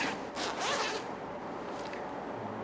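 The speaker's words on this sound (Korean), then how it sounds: "이 베개를 이렇게 보게 되면은 지퍼가 있어요." A zipper on a pillow slides open in a quick, close scratchy zip lasting under a second, followed by quiet handling with a faint tick.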